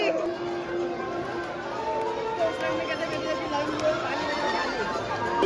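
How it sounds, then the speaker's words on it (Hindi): A dense crowd packed into Khatu Shyam temple, a steady, close murmur of many voices and shuffling bodies, with people talking nearby throughout. "इतनी भीड़ भाई, लड़ के इतनी आगे घुसे हैं"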